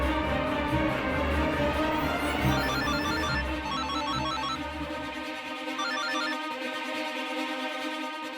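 A telephone ringtone plays loudly and continuously after a call is placed, its repeating electronic melody running alone for about eight seconds, while a low background hum drops away partway through.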